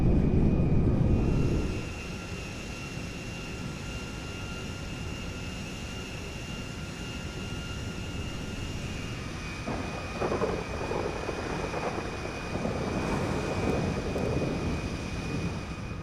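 Steady roaring drone of an IL-76M cargo plane's engines in GTA 5, continuous and fairly loud, with a brief louder rumble at the start and faint fluctuations later on.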